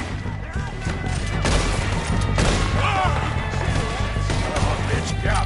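Dense Red Dead Redemption 2 gunfire rattles continuously in a shootout, with rapid overlapping shots and booming impacts over a loud, busy battle mix, while voices shout beneath it.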